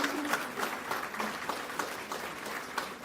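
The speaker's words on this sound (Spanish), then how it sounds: "Un aplauso para Vilma." Applause for Vilma at the Premios Herencia 2026 ceremony for Cuban exiles in Miami, a moderate, evenly sustained crowd clapping with a few sharper individual claps poking through, no speech over it.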